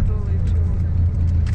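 Steady low engine drone inside a bus on a long road trip between Sofia and Belgrade, a continuous close rumble with faint road noise and no speech.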